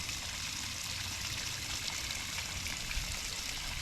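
Water runs steadily into a scuba diving BCD through its oral inflation button during post-dive gear rinsing, a close, continuous hissing trickle with no speech.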